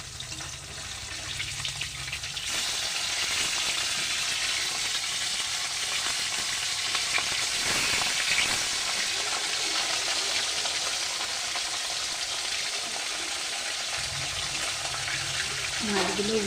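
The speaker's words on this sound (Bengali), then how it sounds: "মাছগুলো আমার ভাজা হয়ে গেছে।" Turmeric-coated fish fry in hot oil in a kadai, giving a loud, steady crackling sizzle that carries on without a break for about sixteen seconds.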